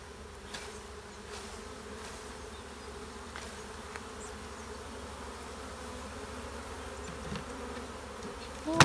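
Steady swarm of honeybees buzzing close by as a frame is shaken into a hive, a dense continuous drone with occasional faint clicks and taps, no voices.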